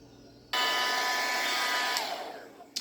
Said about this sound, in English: I'm gonna blow dry it a little bit more like that